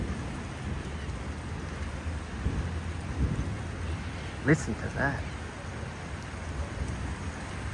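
Thunderstorm with steady heavy rain hissing throughout and a couple of brief thunder rumbles and cracks midway, with a person speaking briefly over the storm.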